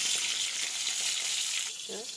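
A paste of ground white mustard and tomato fries in a pan with a steady, close hiss of sizzling oil, and a brief voice-like sound is heard near the end.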